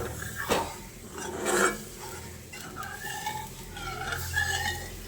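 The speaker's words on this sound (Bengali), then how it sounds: "তারপর আমি যে ডালের জলটা তুলে রেখেছিলাম সেই জলটা এখানে দিয়ে দিচ্ছি, দিয়ে ভালো করে মিশিয়ে নিচ্ছি।" A spoon scrapes and stirs masoor dal in a metal pot as reserved cooking water is mixed in, with soft irregular rubbing and a few louder knocks against the pot, close and fairly quiet.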